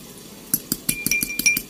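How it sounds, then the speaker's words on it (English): Eggs are beaten into milk in a bowl, with a quick run of bright clinks from a utensil tapping the bowl about every fifth of a second, close and fairly loud after a brief quiet start. "I'm going to break the eggs inside the milk, and I'm going to stir this"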